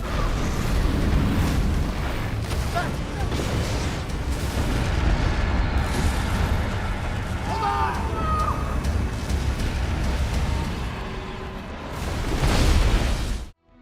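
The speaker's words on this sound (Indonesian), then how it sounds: "tiba-tiba pesawat itu meledak" A deep, continuous rumbling roar of a spaceship exploding that fills the whole stretch and swells again near the end before cutting off.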